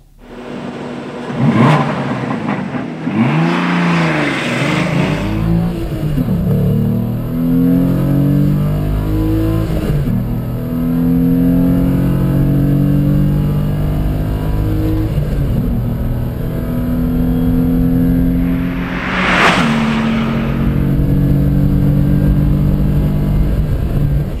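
A Renault Clio V6 launches from a standing start over 400 m, its engine roaring up through repeated rising revs with brief dips at gear changes, loud and close throughout.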